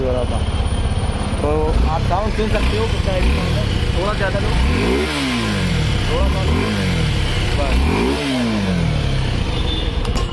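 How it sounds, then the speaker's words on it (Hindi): A Suzuki V-Strom SX 250 motorcycle engine revs up and down several times, rising and falling whines over a steady rumble, while someone talks briefly over it. "मैं आपको इसका सुजुकी विस्टॉर्म का साउंड सुना देता हूँ। तो आप साउंड सुन सकते हो"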